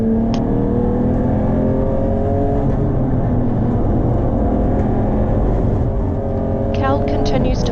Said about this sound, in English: Racing Ray Williams shoots past as he makes his way through the field in his rapid piranha.